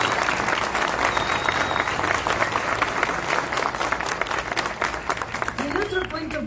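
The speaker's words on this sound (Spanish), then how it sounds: "Un aplauso para el Padre." Audience applause for a priest at a neighborhood community center in Tacuarembó, steady dense clapping throughout with crowd murmur mixed in.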